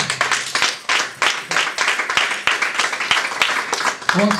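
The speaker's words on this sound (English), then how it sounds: "I want to give you the thank you for clapping" A church congregation claps in a quick, uneven rhythm, many hands close by and fairly loud, with a few voices mixed in under the clapping.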